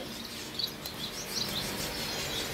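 Yellow golden finches chirp in quick, high, faint calls over a steady background hiss, with no voices.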